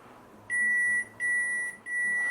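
Toshiba GRT36SC refrigerator alarm sounding three steady electronic beeps in a row, each about half a second long, clear and fairly loud over faint room hum.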